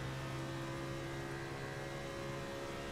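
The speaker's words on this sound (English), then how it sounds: "my engine noise is too loud" A car engine in the iRacing sim racing game drones at a steady, fairly quiet level with a constant tonal hum and no clear revving.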